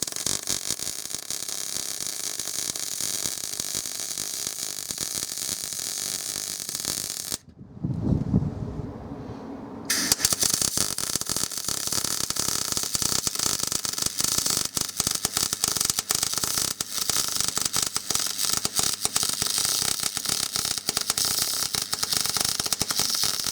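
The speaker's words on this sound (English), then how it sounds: "I now need to finalise the sort of alignment of the base plate and get it welded onto the guide for the cable." Arc welding a steel base plate onto a cable guide for a wiper motor conversion on a Morris Minor, a loud, steady crackling buzz that runs nearly the whole time, with one brief pause partway through.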